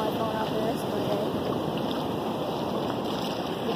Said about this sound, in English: got the waves, and we're walking in it right now